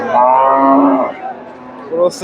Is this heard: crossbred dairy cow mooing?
yes